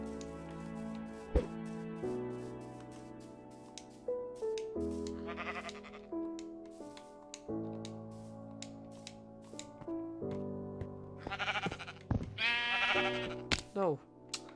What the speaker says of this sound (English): Here is another sheep.